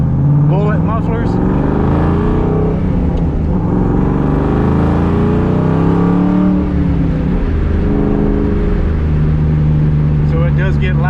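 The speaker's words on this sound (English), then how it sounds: "And it's got some straight through mufflers. Dynomax bullet mufflers." A 1994 Ford Cobra with a 2.5-inch exhaust, H-pipe and Dynomax Bullet straight-through mufflers revs and accelerates, its engine tone rising and falling loudly and close throughout, with no gaps.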